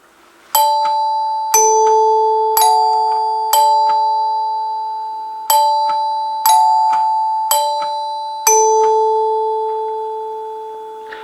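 A NuTone K40 symphonic chord note bar door chime rings alone, sounding about eight clear, bell-like chord strikes at irregular intervals, each tone lingering and decaying slowly in a quiet room.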